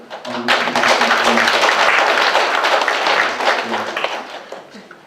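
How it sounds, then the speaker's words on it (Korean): Warm, dense applause from an audience at a Korean art exhibition opening, greeting the district mayor, swells and holds loudly for several seconds before tapering off, with a faint low hum beneath. "우리 청장님, 과 뭐, 부부 청장님에게 다시 뜨거운 박수로"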